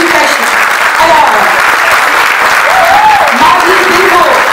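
Audience applause at a graduation ceremony, steady clapping from a seated crowd under a loud voice speaking French over a sound system.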